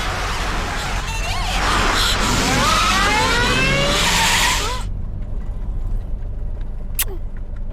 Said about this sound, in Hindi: उस गाड़ी का पीछा करो